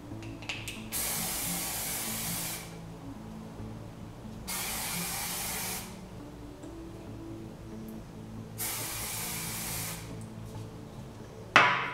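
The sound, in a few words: hairspray being sprayed onto wavy hair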